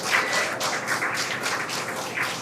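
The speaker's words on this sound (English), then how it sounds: "The crowd here at Mission Control in Hawthorne cheering." A crowd at SpaceX Mission Control in Hawthorne cheers and claps in repeated bursts, moderately loud and a little distant, with no talking over it.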